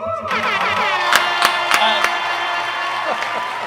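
A lively crowd at a live country music show at The Saddle of Southern Dark cheers and claps, with loud whoops and scattered sharp claps over a ringing, sustained roar.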